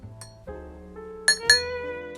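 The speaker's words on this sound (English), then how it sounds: "Give it a stir." A spoon stirs milk into coffee in a cup, striking the sides in a few bright, close clinks, two of them louder near the end.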